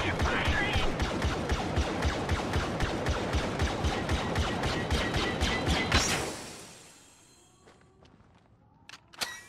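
Rapid automatic gunfire fired from the hip in Star Wars Battlefront, a dense steady burst of loud shots for about six seconds that cuts off, leaving faint game ambience with a few scattered sharp clicks.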